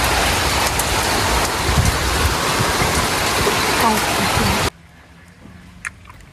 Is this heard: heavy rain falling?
yes